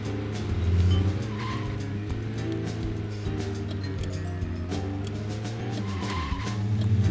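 A car in the video game Deadly Premonition drives with a steady engine drone while its tires squeal and skid through turns, loud and continuous.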